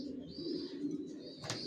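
Down-shape racing pigeon chicks of Johnson long-distance lineage give soft, close cooing calls in a quiet space, ending with a short sharper chirp.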